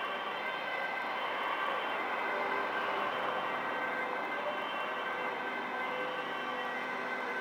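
A fire truck siren sounds continuously at a big fire, a steady wailing tone that holds at even loudness throughout, moderately distant with no talking.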